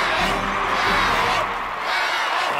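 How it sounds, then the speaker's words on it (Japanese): Stadium crowd cheering in the Inazuma Eleven anime, a loud, sustained roar of many voices with whoops, steady throughout and slightly swelling at the end, with an announcer faintly beneath. "大歓声に迎え入れられる白戸屋前。"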